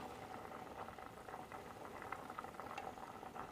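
Clear soup of winter melon with boiled eggs bubbling in a pot, a steady dense low rumble of boiling liquid with scattered small pops throughout, fairly faint and heard alone.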